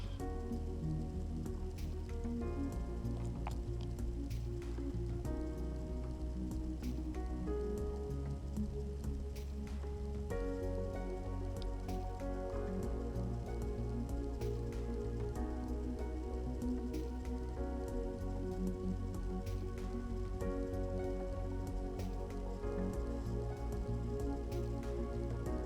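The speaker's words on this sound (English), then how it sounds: "Now I'm going to go in with my batter, and you want to make sure that you layer this evenly into the pan." Cake batter for an apple pie cake is layered into a baking pan with soft, wet squishing and dripping plops. These continue quietly and steadily, close by, and no one speaks.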